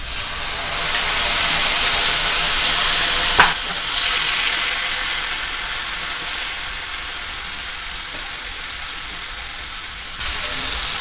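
Yogurt mixed with dry spices sizzles and fries in hot oil, a steady broadband hiss that holds for about eleven seconds, with a sharp clatter of stirring near the start and a slow fade toward the end.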